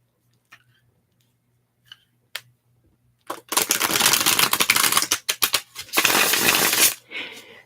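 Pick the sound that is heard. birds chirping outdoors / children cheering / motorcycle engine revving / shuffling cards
shuffling cards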